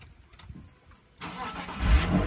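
A BMW 2.5 litre straight six engine in a drift build car cranks briefly after a quiet start, then catches and settles into a loud, steady running rumble close by.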